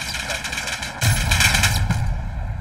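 Gunfire in Call of Duty Black Ops Cold War: loud, close bursts of rapid shots that swell into dense, sustained shooting with booming low impacts.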